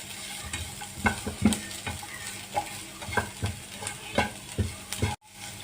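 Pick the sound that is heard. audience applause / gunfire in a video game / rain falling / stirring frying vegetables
stirring frying vegetables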